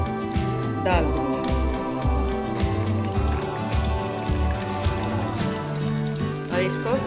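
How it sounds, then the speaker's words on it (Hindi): Pizza puffs deep frying in hot oil in a pan, a steady, dense crackling sizzle like rain on a surface, running continuously under background music. "फ्राई करने के लिए मैंने एक पैन में ऑयल गरम किया है और इसमें मैं अपने पफ को डाल दूँगी"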